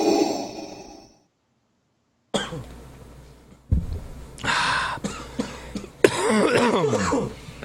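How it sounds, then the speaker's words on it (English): After a short silence, a single cough bursts out nearby, followed by breathy noises and throat sounds. "A little delayed cough."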